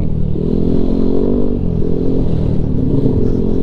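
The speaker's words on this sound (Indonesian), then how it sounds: "Tuh kan gemuruh-gemuruh suara knalpot di jalan lalu lintas itu." Continuous heavy engine rumble from motorcycle and vehicle exhausts in passing traffic on a street in Pleret, loud and close, with a steady low drone and occasional revving swells throughout.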